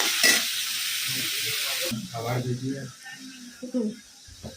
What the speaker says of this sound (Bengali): কাঁকরোল আলু পেঁয়াজ কাঁচা লঙ্কা দিয়ে একটু ভাজা হচ্ছে